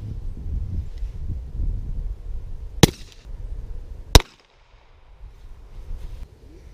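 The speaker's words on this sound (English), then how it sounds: "I'm gonna do a single shot of suppressed and a single shot of non-suppressed." A GSG FireFly pistol fires two sharp, distinct shots a little over a second apart, the first with a Silencerco Warlock 2 suppressor and the second unsuppressed, the latter followed by a brief silence over faint outdoor rustling.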